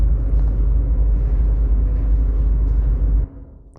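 A deep, bassy rumbling thrum used as a layer in Hyper Light Drifter game sound, sustained steadily for about three seconds before cutting off into a fading low tail.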